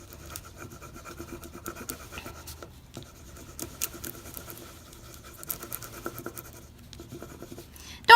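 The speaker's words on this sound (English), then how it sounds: "Don't rub too hard. You don't need too much pressure. Just enough that the foil picks up your glue." Foil being rubbed by hand onto a glued surface, a faint, steady dry scratching and rubbing that goes on without pause at close range, with no one talking.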